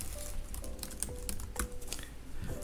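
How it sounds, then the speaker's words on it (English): Fast typing on a computer keyboard under macOS, a steady patter of light key clicks with a few sharper strikes, close and moderately loud over a low background hum. "Type terminal and hit enter."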